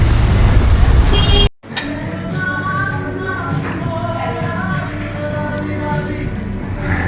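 Street traffic in Naples, Italy: loud, continuous road noise with passing cars and engine rumble that runs on steadily after an abrupt cut near the start.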